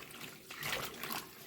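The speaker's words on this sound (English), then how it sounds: "you're basically washing these until your water gets a little bit clearer" Tap water runs steadily into a sink as collard greens are washed, a soft continuous splashing and gurgle close by with no talking.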